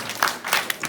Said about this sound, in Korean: 자 박수 크게 3번 시작